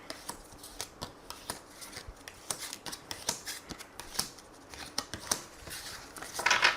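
Tarot cards being shuffled for a reading give a quiet run of crisp, irregular clicks and riffles, close up and without speech.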